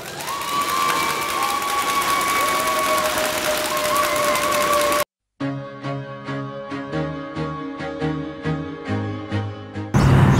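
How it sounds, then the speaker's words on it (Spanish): Audience applause and cheering for a participant at a 2017 workplace safety singing contest: dense, steady clapping and crowd noise for about five seconds, then a brief silence and a switch to loud, rhythmic music. "¡Fuerte el aplauso!"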